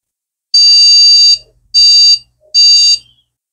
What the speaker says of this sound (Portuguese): Já vimos que deu bip aí e não deu tela.